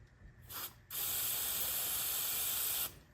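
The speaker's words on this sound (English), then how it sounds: "spray a little bit of it into the cap." A can of spray paint hisses into a cap, up close: a short burst and then a steady spray of about two seconds before it stops.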